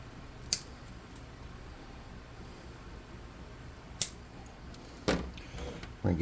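A toothpick being snipped off with small cutters to fit a pommel onto a miniature great sword for a tabletop Hound Archon figure: a few sharp, isolated clicks spaced apart in an otherwise quiet room.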